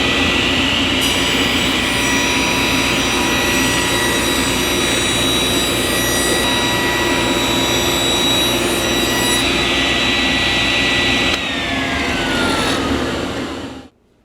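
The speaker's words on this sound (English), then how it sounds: "so we're going to rip that on the table saw" Table saw ripping a board: a loud, continuous whining buzz with strong steady tones, its pitch shifting slightly near the end of the cut before the blade spins down.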